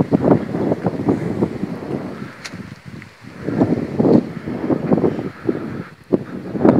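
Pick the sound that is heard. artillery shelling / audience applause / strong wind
strong wind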